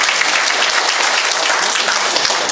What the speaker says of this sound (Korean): 다시 한번 큰 박수 주시면 감사드리겠습니다.